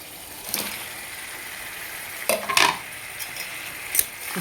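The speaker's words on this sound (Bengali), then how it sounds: "চিকেনটাকে ভালো করে নাড়িয়ে চাড়িয়ে মশলার সাথে একদম পুরো মিক্স করে নিতে হবে" Chicken pieces and spices are stirred in a hot pot, giving a steady sizzle under several sharp scrapes and clinks of a utensil against the metal, all close by and with no talking.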